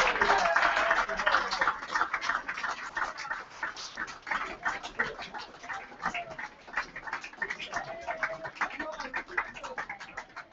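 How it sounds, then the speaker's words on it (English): An audience gives a round of applause as two Featherstone Rovers players walk out modelling the new 2014 away shirt at a squad number announcement. Busy clapping rises and falls for several seconds, with voices talking among the claps. "Give them a nice big round of applause."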